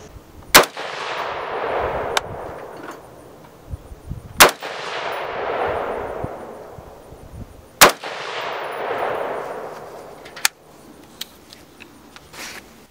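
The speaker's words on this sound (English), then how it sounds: "Shooting at 50 yards, first group with HPR 55 grain 223." Rifle shots from a .223 firing HPR 55 grain ammunition at a 50-yard range: three loud, sharp cracks spaced a few seconds apart, each trailing into a long echoing decay, with a fainter fourth report near the end.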